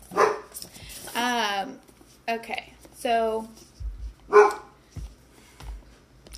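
A pet dog barks indoors in several close, loud, yappy bursts spread across the moment, with a person speaking briefly between them.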